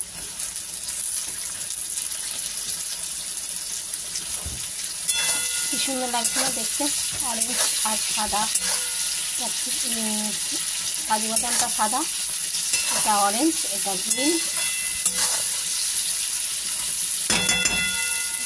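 Carrots and beans fry in a pan for fried rice, a steady sizzle running underneath while someone talks through most of the stretch.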